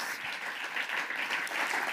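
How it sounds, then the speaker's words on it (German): An audience at a Central Swiss business forum gives steady, continuous applause to welcome guests onto the stage, a dense wash of many hands clapping at moderate distance without pause. "Mit einem großen Applaus."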